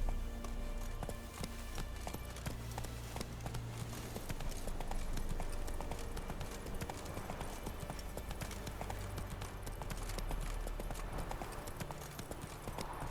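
Roach, a horse in The Witcher 3, trots with rapid, rhythmic clip-clopping hooves, steady and fairly close over a busy wash of ambient game sound, faint overall and without speech.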